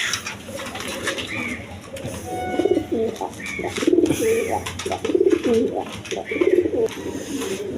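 Several pigeons at a pigeon market coo repeatedly in low, rolling bursts close by, with a faint background hum and occasional voices.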